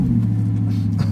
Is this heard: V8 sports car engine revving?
yes